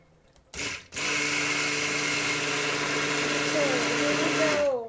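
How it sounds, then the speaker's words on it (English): A blender mixes soap oils and lye in a mint-scented kitchen; a brief whir starts, then the motor runs loud and steady for about four seconds before winding down, close by. "Time to use the blender"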